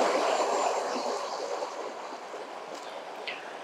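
Water rushes steadily down a fairly fast waterfall, a continuous broadband roar that eases slightly over a few seconds, with a faint click near the end.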